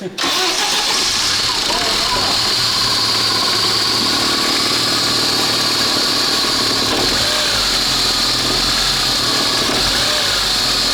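A Lada Niva engine with a foreign noise cranks and starts, then runs loudly at a steady idle with a persistent whining, rattly undertone.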